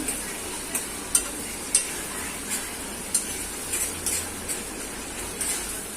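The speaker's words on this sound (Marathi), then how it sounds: "आलं लसणाची पेस्ट ती पण चांगली परतून घ्यायची." Ginger garlic paste sautéing in a pan for rajma: a faint steady sizzle with light, irregular ticks and scrapes of a spoon stirring, no voices.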